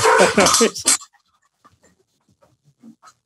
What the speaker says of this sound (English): Sorry, I got dogs here too.